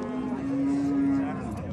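A cow lets out one long, low moo over a busy outdoor background of murmuring and shuffling livestock at the Nookat livestock market.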